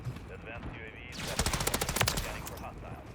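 Rapid automatic gunfire from an M13B rifle in a Call of Duty MW3 multiplayer match, a loud burst of close, evenly spaced shots that swells in the middle of the clip over game background noise.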